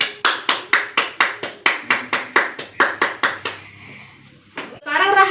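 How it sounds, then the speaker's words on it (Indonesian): Classroom applause from a primary school class, a burst of rhythmic unison clapping close by that fades out, followed by a teacher beginning to speak. "Kasih tepuk tangan untuk Filda."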